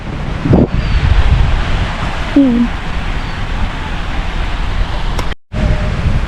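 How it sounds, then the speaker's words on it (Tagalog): Steady, loud wind rumbles across the microphone over a broad rushing wash of strong ocean surf at a beach in Masbate, Philippines, with a brief dropout near the end. "Medyo malakas nga yung alon, di ba?"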